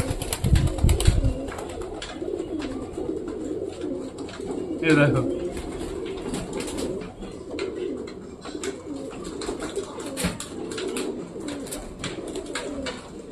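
A pet pigeon coos close by in a home loft setting, a low throaty burst standing out mid-clip over steady background noise, with a person speaking briefly.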